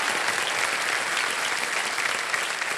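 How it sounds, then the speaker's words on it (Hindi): Studio audience applause on a Kaun Banega Crorepati Season 15 game-show set, a dense, steady wash of many hands clapping at close range with no talk over it. "एक बार तालियां बजाएं के लिए।"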